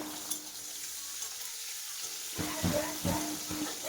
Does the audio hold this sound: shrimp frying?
yes